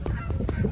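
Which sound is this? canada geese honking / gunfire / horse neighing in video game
canada geese honking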